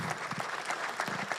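An audience at an evening community event at Maui Ocean Center claps in steady applause, a dense patter of many hands filling the space.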